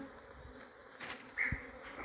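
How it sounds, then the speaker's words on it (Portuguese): Bees buzz around a hive in a hollow tree, a faint, steady insect drone with no voices. "Tirar essa abelha ligeiro, porque as abelhas estão querendo invadir já nesse tempo."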